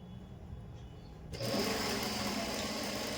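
A sewing machine stitching piping onto a garment collar, faint hum at first, then the motor speeds up after a second into a steady, louder whirring rattle, close and alone without speech.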